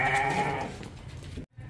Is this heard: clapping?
no